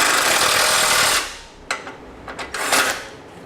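A power tool snugs down Blue Ox base plate bolts on a 2011 Chevrolet HHR, giving a loud, steady whirring burst for about a second before cutting off, followed by a few faint clicks and rattles.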